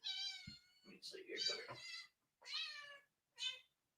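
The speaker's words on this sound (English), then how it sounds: "So if you hear a cat" A pet cat meows repeatedly in a home studio, several clear, close meows rising and falling with short pauses between them, with no speech over them.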